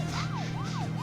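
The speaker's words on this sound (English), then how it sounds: "If you hold down and boost with the siren, you can get up to like 55." Police car siren wailing in a driving video game, a loud repeated rising-and-falling sweep cycling about three times in quick succession over a steady engine hum, with no talking.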